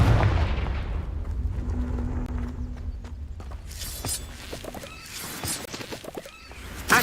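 A Confringo blast spell in the Hogwarts Legacy video game bursts with a heavy boom, followed by crackling debris, scattered impacts and footsteps, loud and close with no talking.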